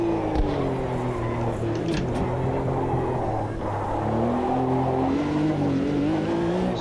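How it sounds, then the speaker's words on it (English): Race cars in the AMS2 racing game, driven close around a Porsche 908-3, give a continuous layered engine drone with rising and falling revs and pitch sweeping as they pass nearby. "Now we've got all those noisy cars around us."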